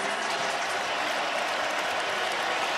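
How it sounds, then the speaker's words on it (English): Over 61,000 fans roar at a college football game, Iowa State Cyclones against Iowa Hawkeyes, a dense, loud wash of cheering and noise that stays steady and unbroken throughout, with no clear single voice. "listen to the sound of this crowd"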